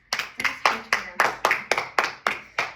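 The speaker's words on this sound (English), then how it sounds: "Let's clap for her, Elise." A class claps for a student, producing nine evenly spaced, fairly sharp claps in a steady rhythm, close by and moderately loud, with no talk over them.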